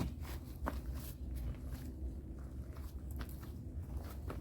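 Crisp crunches of someone biting and chewing a crunchy, tender fresh-picked garden vegetable, close up, with several sharp crackly bites over a steady low background rumble.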